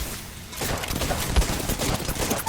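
Rapid gunfire from enemies in a battle-royale style shooter game, a dense, continuous burst of shots that stays loud and fairly close throughout with no talking over it.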